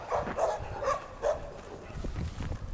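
A stray dog on a street in Magadan, Russia, gives a few short whimpering yips and soft barks, close by and moderately loud, with quieter noise between the calls.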